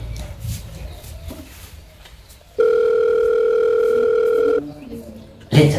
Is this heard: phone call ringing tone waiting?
yes